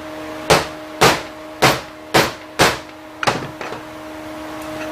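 A smaller bushing driver taps a seal into a 5R55S automatic transmission: five evenly spaced, sharp metallic knocks, then a couple of lighter, rattling taps, heard close over a constant low machine hum with no talk.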